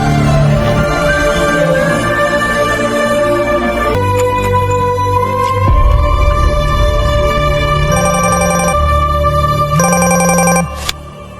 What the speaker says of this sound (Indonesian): Saat itu tiba-tiba ada telepon yang mengabarkan anak buah Rahul terbunuh oleh geng Pitya dan Daya.